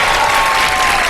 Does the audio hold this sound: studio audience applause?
yes